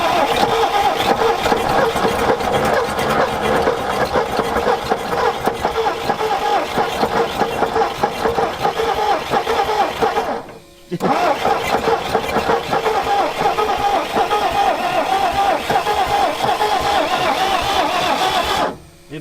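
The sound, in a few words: old panel truck engine cranking with starter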